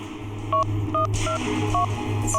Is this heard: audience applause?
no